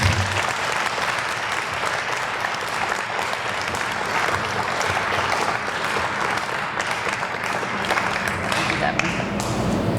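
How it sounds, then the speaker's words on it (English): Audience applause fills a downtown awards ceremony, dense and steady clapping from a large crowd throughout, loud and close with a faint murmur of voices underneath. "And now you can applaud."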